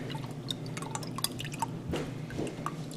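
Melted pork lard trickles through a strainer into a jar, soft irregular drips and small liquid splashes, close and quiet against a faint background.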